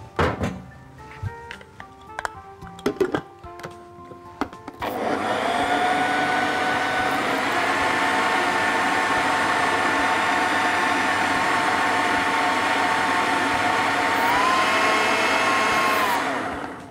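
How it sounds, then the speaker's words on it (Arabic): A blender motor whirs steadily for about twelve seconds, loud and close, mixing strawberry mousse with jelly, after a few seconds of clattering and knocks as it is set up. "دلوقتي هنحط كله مع بعضه بقى في الخلاط"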